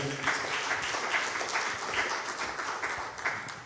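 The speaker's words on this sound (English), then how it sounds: "Please, a round of applause for him." Steady applause from an audience at a climate conference in Ghana, many hands clapping in an even, sustained patter at moderate volume with no voices over it.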